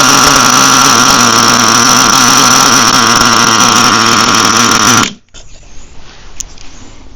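Vintage HPI Savage 25 RC truck nitro engine running loud and close with a steady high buzzing drone for about five seconds, then cutting out abruptly to quiet handling noise.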